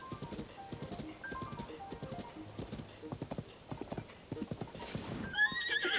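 Clopping hooves of a horse in Zelda: Tears of the Kingdom patter continuously at a trot, with a whinny rising at the end, all close and clear.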